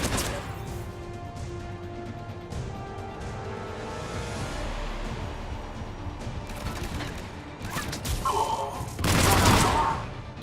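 A mounted gun fires in a sci-fi shooter video game, bursts of gunfire over a busy battle din, with a loud crashing volley near the end.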